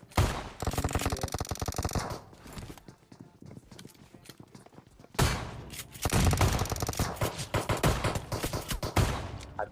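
Gunfire in the mobile game PUBG Mobile, loud sustained bursts of automatic fire that break off into a quieter stretch of scattered sounds, then resume as dense rapid shots.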